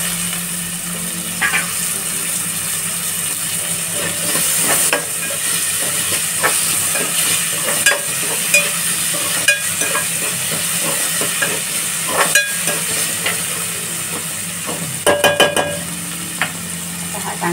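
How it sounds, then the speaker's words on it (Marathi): Potatoes with their skins on, frying in oil with onions and being stirred: a steady, loud sizzle and hiss throughout, with the clink and scrape of a utensil against the pan at intervals. "हा चांगला कांद्यामध्ये मिक्स करून घेतला बटाटा की त्याला पूर्ण तेल वगैरे लागतं व्यवस्थित"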